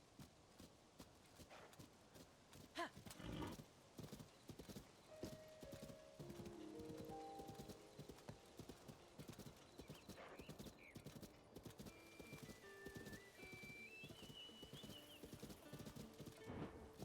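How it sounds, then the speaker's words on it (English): A horse in The Legend of Zelda: Tears of the Kingdom, hooves clip-clopping steadily with a whinny, set against game music and ambient sound. "There's my little horsey buddy."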